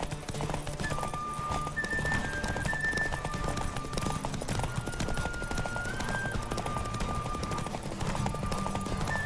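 Hooves clip-clop in a fast, steady galloping rhythm over a constant background, with faint musical tones drifting above, from a horse in the video game The Witcher 3.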